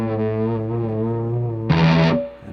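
Distorted electric guitar plays a sustained note from a riff, held and ringing, then a sharper, brighter picked note enters near the end before the sound fades.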